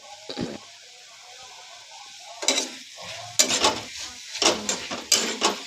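Food frying in a pan with intermittent sizzling bursts and scraping stirs, close and fairly loud, quiet gaps between strokes.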